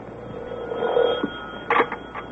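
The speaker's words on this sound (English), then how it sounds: "Hurry, Riley. Phone the YW" A telephone rings as a call is placed, giving two short bursts of ringing after a softer tonal stretch, loud and close with no voices over it.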